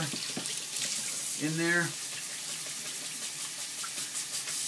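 Water pours steadily from a tap into a sink while rinsing a paint brush, a constant hiss, while a voice briefly speaks over it.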